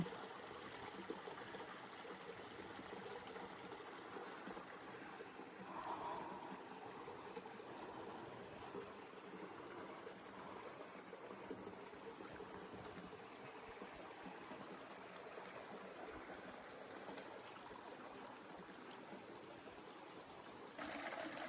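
Clear mountain stream in Guadalupe Mountains National Park, Texas, flowing steadily with a soft continuous trickle and babble, faint and unbroken for the whole stretch.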